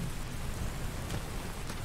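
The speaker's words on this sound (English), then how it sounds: "And it's rain, wonderful" Steady rain pours in Skyrim Special Edition, a continuous even hiss with low rumble underneath and no voices.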